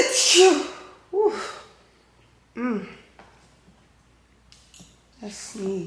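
A person sneezes loudly and close by, one sharp burst at the start, followed by a few quieter breathy gasps and snorts, with no talking.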